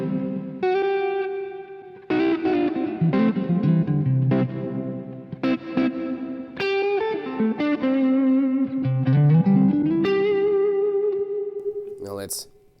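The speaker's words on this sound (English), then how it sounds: "Now we can hear the spring reverb." An electric guitar plays chords and single notes through the spring reverb setting of a Free The Tone Ambi Space pedal, with all knobs at noon, giving a splashy, echoing tail that rings out at the end.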